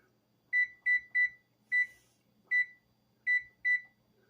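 An oven control panel gives seven short, identical electronic beeps in an irregular rhythm while the bake temperature is being set. The beeps are clear and close, with only faint room noise in between.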